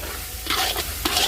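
Chopped onion stir-fried in a hot wok for Sichuan-style chili chutney, a steady sizzle with a few louder scraping stirs near the middle and end, close and without talk.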